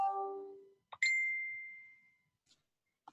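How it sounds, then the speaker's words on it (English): A bright bell dings twice in quiet surroundings: a lower tone rings and fades, then a higher, sharper strike sustains for about a second before decaying, followed by faint taps. "I heard a bell"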